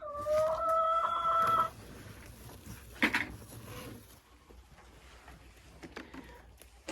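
Green-egg-laying hens vocalize close by: a drawn-out, crowing-like call for the first second and a half, then scattered short clucks over a quiet barnyard background.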